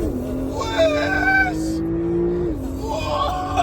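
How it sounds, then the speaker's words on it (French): A Porsche 911 Turbo S launching hard from launch control at a red light in Dubai, its engine note holding a rising, steady whine with a brief drop in pitch, close and loud, with vocal exclamations over it. "La voiture tellement t'accélère, elle part comme ça"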